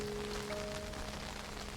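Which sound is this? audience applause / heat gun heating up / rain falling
rain falling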